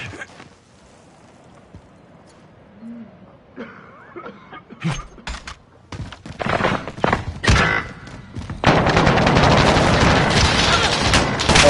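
Bursts of gunfire from a PS4 online shooter game, scattered shots building into dense, sustained rapid fire near the end, with a voice talking over the earlier part.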